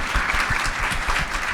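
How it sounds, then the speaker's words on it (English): An audience at a career-resilience panel event applauds the people in the room, with dense, steady clapping at a constant level from start to finish and no voices. "So let's just clap for all of them of being in the room."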